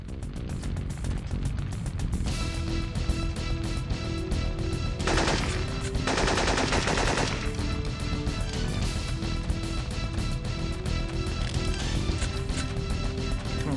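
Rapid bursts of gunfire from the video game Syphon Filter 2, dense repeated shots and automatic fire running throughout over tense game music, with a couple of louder crashing flurries midway.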